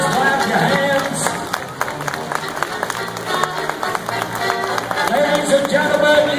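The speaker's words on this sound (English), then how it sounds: "Can y'all tap your toes, clap your hands?" An outdoor audience claps along to a song at a western heritage event with Clydesdale horses, steady rhythmic clapping blended with crowd noise and music throughout.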